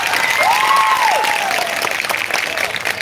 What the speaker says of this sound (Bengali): জয় হাততালি।